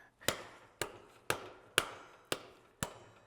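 Six sharp metallic hammer blows strike parts of a Go Devil L134 jeep engine at an even pace, each ringing briefly before the next strike, close and clear with no talking.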